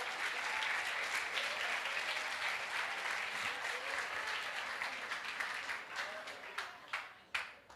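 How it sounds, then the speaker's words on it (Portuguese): Congregation applauding at a church seminar gathering, steady dense clapping from a crowd that fills the space, thinning into scattered claps toward the end. "pode aplaudir o Senhor."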